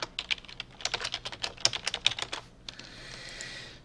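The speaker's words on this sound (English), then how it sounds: "after you get done typing in your content" Rapid clicking keystrokes on a computer keyboard, close and fairly quiet, tapping in uneven bursts for a couple of seconds before giving way to a soft hiss.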